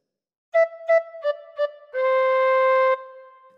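Tin whistle plays a short phrase of Old MacDonald Had a Farm, four clear separate notes followed by one long sustained note, solo and close with no voices.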